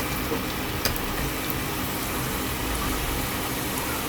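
Bread cheese rolls frying in hot oil, a steady, fairly quiet sizzle and crackle with no talking.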